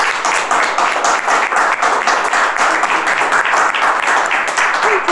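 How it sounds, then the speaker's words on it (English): Audience applause for a speaker at a Startup Grind Detroit event, a steady wash of many hands clapping at a loud, even level throughout, with no one talking over it. "So I'd like a big round of applause for Ken."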